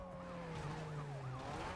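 Police car sirens wail in a car chase video game, with several overlapping rising and falling tones under engine hum, faint and continuous.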